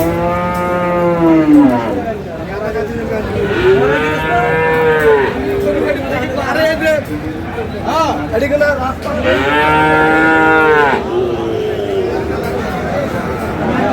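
A young bull calf of Friesian or cross breed moos loudly at a cattle market in Dinajpur, giving several long drawn-out bellows in a row. Crowd chatter and talking carry on underneath.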